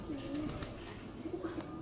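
Pigeons coo softly at a window, their low, repeated calls sitting over a steady background hum.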